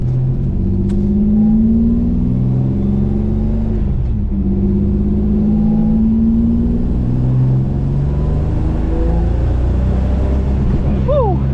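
A turbocharged 3800 V6 Camaro with a custom 3-inch exhaust rumbles and revs from inside the cabin, its deep exhaust note rising and falling through gear changes, with a high turbo whine near the end.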